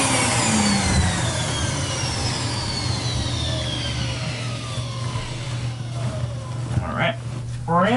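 A central vacuum unit running just after a bag change: a loud, steady motor roar with an even hum and a faint pitch sweep. Brief muffled sounds come near the end.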